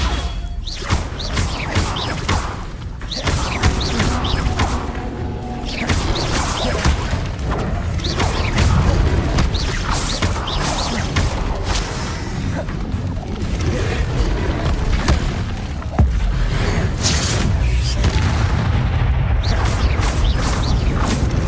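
Hogwarts Legacy spell combat: a dense, loud run of magical blasts, whooshes, crashes and thuds firing in rapid succession, with shouted spell incantations layered over the fighting.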